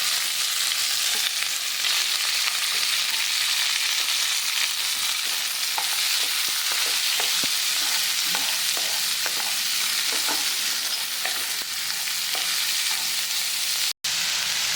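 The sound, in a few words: onion sautéing in a pan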